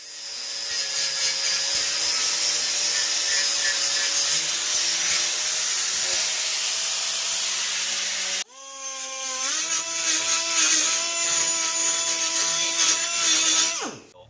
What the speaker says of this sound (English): this die grinder works great